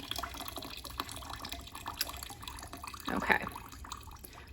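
Water flowing through a stream table model, a soft, close trickle and splash running continuously with a brief louder gush near the end, while a person briefly says a word.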